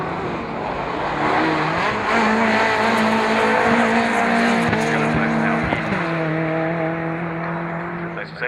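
MG race cars, including MGB GTs, pass on the track at Croft. Their engines drone and rise in pitch as the cars go by, loud and continuous, with trackside commentary heard under the noise.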